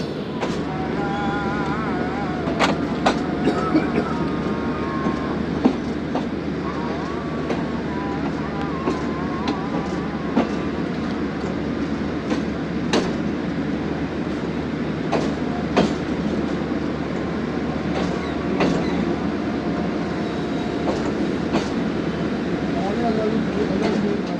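The Musa Pak Express train in Pakistan rumbles steadily along the rails toward Khanewal Junction, with rhythmic clicks and clacks of the wheels over the track joints and a low continuous drone.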